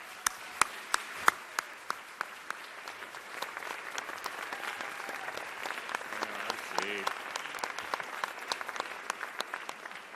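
A town hall audience claps to welcome Senator James Lankford, with sharp individual claps up close over a broader wash of crowd applause that carries on throughout, plus brief voices in the room.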